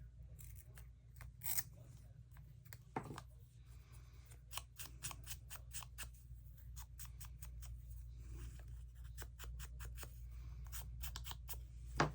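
Scissors snip through paper ephemera with many quick, crisp cuts, some in rapid runs and others spaced apart, all close and fairly quiet over a low steady hum.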